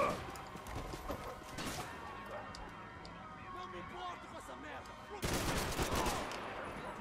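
Gunfire in the video game Max Payne 3, busy bursts of shots and crackling impacts over a noisy, cluttered game soundscape, with a loud flurry near the end.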